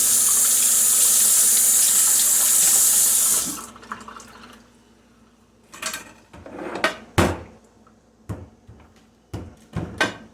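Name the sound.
rinsing fruit under running tap water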